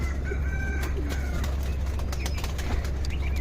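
Pigeons in a fancier's loft cooing softly close by, over a constant low hum, with a few short wing flutters and faint clucks from other birds.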